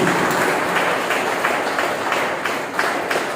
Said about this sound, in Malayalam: വലിയൊരു കയ്യടി